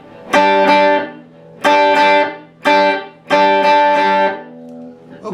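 An acoustic guitar strums a song's rhythm pattern of ups and downs in bright, ringing chord bursts, several groups of quick strokes with brief decays between them.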